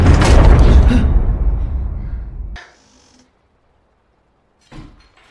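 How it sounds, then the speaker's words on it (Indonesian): A door to a back room slams shut very hard by itself in a film scene: one loud, heavy boom that decays over about two seconds, followed by silence and a faint knock. "pintu menuju ruang belakang ngejeblag sendiri dengan sangat keras"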